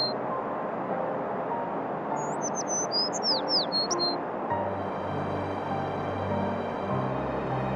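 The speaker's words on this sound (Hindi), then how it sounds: "एक दिन एक रंग बिरंगी चिड़िया अपनी टूटी टांग लिए संजीव के घर उड़ती चली आई" A small, brightly coloured bird gives a quick run of high, thin chirps in a short burst, fairly clear over a low background hum before it falls silent.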